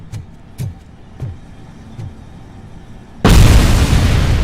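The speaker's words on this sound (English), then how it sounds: "Oh, the grenade! It got me!" A grenade goes off in RoboCop Rogue City: a few heavy, evenly spaced footfall-like thuds, then a sudden loud, close blast that roars on to the end.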